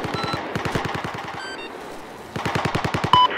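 Machine gun fire in the video game Battlefield 4: rapid, loud bursts of evenly spaced shots, a brief pause, then another sustained burst, with faint game interface tones.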